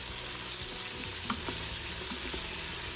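Meat browning with peppers and chilies in an Instant Pot while being stirred, a steady sizzle with occasional scraping clicks from the spoon, close and even.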